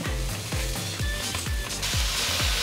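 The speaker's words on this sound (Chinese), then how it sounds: "现在放入金针菇，金针菇给它炒软" Enoki mushrooms sizzle in a hot pan alongside black wood-ear fungus, stirred in quick rhythmic scrapes about four per second over a constant close frying hiss.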